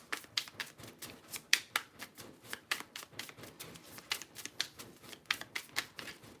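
Tarot cards being shuffled in a rapid, steady run of crisp riffling snaps, close and fairly quiet, continuing without pause and without talk.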